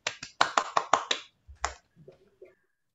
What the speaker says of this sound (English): let us have a big round of applause to welcome the president of Pekan Baru Toastmasters